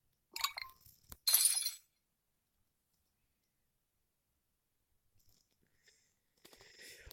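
Sharp glassy smashing bursts from the Plague Inc video game arrive in two quick crashes early on, then fall to silence, followed later by faint clicks and a brief, softer crunch.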